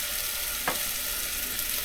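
Steak and onions cooking on a high-output camp burner turned low, a dense, even hiss of sizzling with a single faint clink, close and steady across a short moment.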